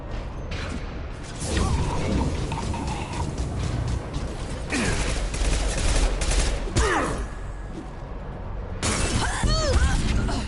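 Gunfire in Mass Effect 2 on PS5, dense bursts of shots with shattering and mechanical clatter over a loud battle din, in several waves.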